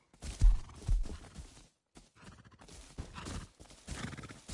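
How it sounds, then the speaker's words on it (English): Horses in a video game neigh and whinny several times with hooves clip-clopping, fairly loud and close, in two bursts separated by a short gap. "What up, horses?"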